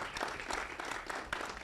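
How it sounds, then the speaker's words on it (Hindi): Brief auditorium applause for the legends at a film song launch, a dense burst of audience clapping that fills the moment without any voices over it. "एक बार जोरदार तालियां हो जाएं for the legends ladies and gentleman"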